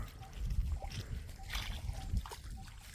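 Floodwater drains out of a farm field after heavy rain, producing a soft, close trickling and sloshing flow with small splashes, fairly quiet, while a voice is faintly present.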